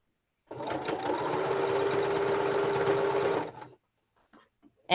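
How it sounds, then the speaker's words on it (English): A domestic sewing machine runs steadily for about three seconds, close and fairly loud, then stops, leaving near silence with a few faint clicks. "I was told my sewing machine, because where I have the laptop, isn't as loud."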